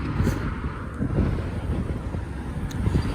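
Wind buffets the microphone in a loud, rumbling, continuous roar with gusty swells, and no one speaks, outdoors at 5th Circle in Amman, Jordan.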